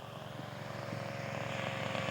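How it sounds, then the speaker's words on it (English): A radio-controlled scale model airplane, a test flight of a glass aircraft, drones steadily overhead with a continuous buzzing propeller engine note, moderately distant and slowly growing louder, with no talk. "watching out for Jim McDonald while he's test flying his glass air"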